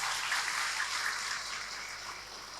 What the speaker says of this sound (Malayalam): അതുകൊണ്ട് വലിയൊരു കൈയടി അവർക്ക് കൊടുക്കണം.